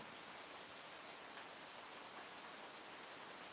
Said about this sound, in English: it is still raining really good out here